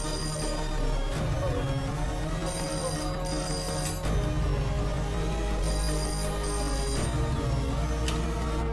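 A telephone rings repeatedly during a call home in a Hindi-dubbed action film, the electronic ring pattern pulsing in steady bursts over a loud, dense background score, with no one speaking.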